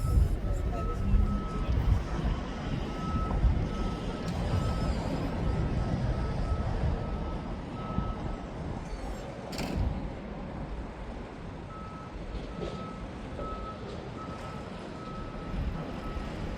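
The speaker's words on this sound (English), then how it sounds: "And those are the Lothian buses." A busy Leith street in Edinburgh with Lothian buses passing, a steady high reversing beep pulsing repeatedly over a broad rumble of engines and traffic, with a voice talking now and then.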